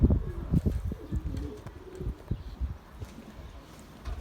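Pigeons coo in repeated low, throaty phrases close by, with some rustling and soft handling noises around them.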